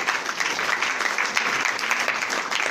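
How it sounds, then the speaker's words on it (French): Audience applause during a lecture on teeth in the Torah: steady, dense clapping from a crowd that stays fairly loud throughout. "On peut applaudir"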